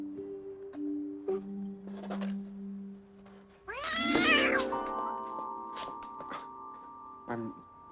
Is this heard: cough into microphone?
no